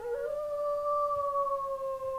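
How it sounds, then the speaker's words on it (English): Recorded wolf howl from an online animal-sounds game: one long, clear, steady howl that rises slightly at the start and then holds a sustained tone, loud and alone. "Wolf."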